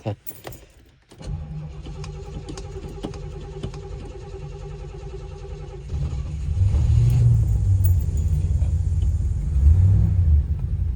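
An old car engine cranks after a brief pause, catches and settles into a steady low idle, growing louder and rumbling in the final seconds, close up with no talking.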